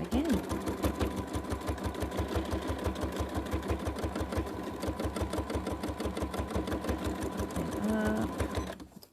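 Sewing machine doing free-motion quilting, a fast regular mechanical chatter of the needle running steadily and close up, with a voice talking over it before it winds down at the end.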